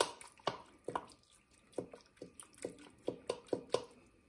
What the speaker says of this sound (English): Just the whole pot, give it a good shake.